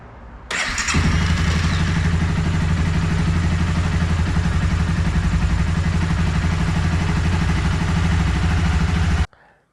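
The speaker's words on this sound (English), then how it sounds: "Started it, ran through the gears." A cheap used motorcycle on a paddock stand in a garage starts after a short crank and then runs loud and close with a steady rumbling engine note and slight clatter, cutting off abruptly at the end.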